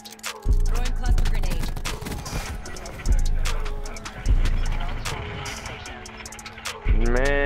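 Cluster grenade explosions go off in Call of Duty Black Ops 4, with several heavy, close bursts about a second or so apart, each decaying into a rumble, mixed with gunfire crackle.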